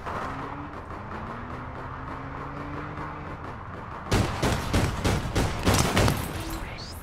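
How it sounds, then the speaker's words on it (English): Gunfire from the video game APB Reloaded erupts suddenly after a stretch of droning vehicle noise, a loud, close burst of rapid overlapping shots that continues to the end. "I come across loads of people shooting at me"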